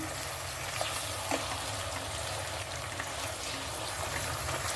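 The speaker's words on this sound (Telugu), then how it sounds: "ఉల్లిగడ్డ టమాటా పేస్ట్ అండి, ఇది కొంచెం ఫ్రై కావాలండి" Onion and tomato paste fries for a mutton curry, giving a continuous dense sizzle with faint stirring scrapes and no talk.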